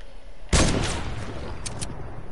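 A lone sniper rifle shot booms in a video game, one sharp loud crack followed by a rolling tail, with a couple of faint clicks afterward.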